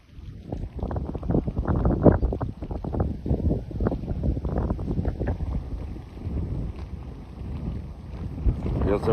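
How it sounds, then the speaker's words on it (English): Strong, gusty wind near an EF2 tornado in Wisconsin buffets the microphone in rough, continuous rumbling bursts that rise and fall for several seconds, with no one talking. "Whoa, this wind's getting up."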